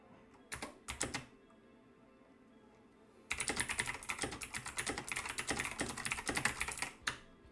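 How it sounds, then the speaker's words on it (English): Computer keyboard typing during a live writing session: a few isolated clicks, then a brief pause, followed by a steady, dense run of rapid keystrokes close to the microphone that continues to the end. "This is a great video for keyboard ASMR, I swear."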